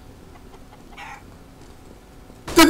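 A chicken in the Counter-Strike GO video game gives a faint cluck amid low background noise, then a loud, close cluck right at the end.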